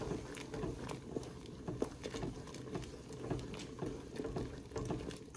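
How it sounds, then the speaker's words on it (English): Butter beans simmering in a pot with onions and butter, giving a steady, close bubbling patter of soft pops and blips that continues without a break. "the beans are simmering"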